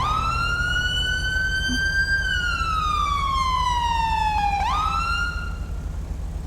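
A wailing electronic police siren in LSPDFR, a GTA V police mod, sweeps up and down in pitch, loud and continuous over a low engine rumble, with a sharp yelp near the end.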